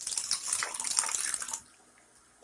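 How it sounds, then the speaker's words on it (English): Running water rinses a hedgehog in a bath, a close, steady splashing hiss for about a second and a half before it cuts off into quiet. "Okay, so now I'm going to rinse him off."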